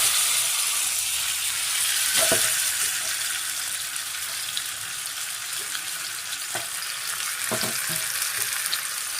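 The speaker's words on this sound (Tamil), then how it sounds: "இப்போ இந்த சிக்கனை அப்படியே ஒரு பேனில் வச்சு ஃப்ரை பண்ணிக்கலாம்" Chicken fries in a pan with a constant, fairly quiet hiss of sizzling and a few brief clinks and scrapes from stirring. No one speaks over it.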